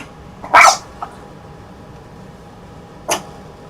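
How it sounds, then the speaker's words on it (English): A small dog gives a short, loud bark, then a faint yip, and a single sharper bark follows a couple of seconds later over quiet room noise. "going to listen to you bark"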